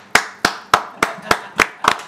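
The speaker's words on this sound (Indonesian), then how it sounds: "Tepuk tangan dong." Clapping in a talk-show studio setting: seven crisp, evenly spaced claps in a steady rhythm, loud and close, with no voices over them.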